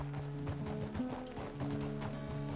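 A horse in Red Dead Redemption 2 plods along with a steady clip-clop of hooves over a sustained, tonal background bed, moderately close and fairly quiet.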